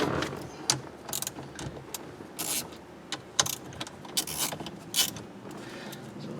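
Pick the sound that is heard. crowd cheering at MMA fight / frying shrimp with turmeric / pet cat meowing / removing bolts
removing bolts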